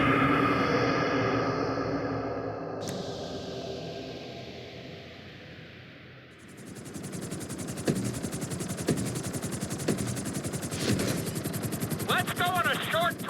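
Helicopter flying in the GTA V video game, a steady whirring rotor and engine drone that dips, then swells into a loud, rapid chopping beat with occasional sharp cracks.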